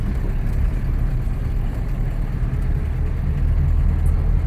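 Car in fourth gear rolling through a roundabout, a steady low engine hum with road noise, constant and close, no voices.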